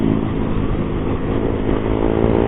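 Loud motorcycle exhaust roaring steadily and close by on a forest highway in Rizal, a continuous throaty engine drone with no pause.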